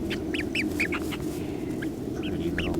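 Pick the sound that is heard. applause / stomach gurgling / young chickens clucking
young chickens clucking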